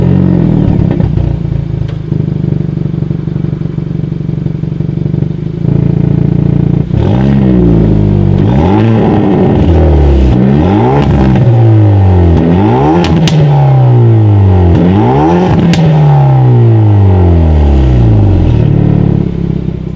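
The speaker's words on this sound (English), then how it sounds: "here is that exhaust clip" A 2019 Hyundai Veloster N's exhaust idling loudly, then revved repeatedly from about seven seconds on, with rising and falling sweeps and crackles between blips, close and alone.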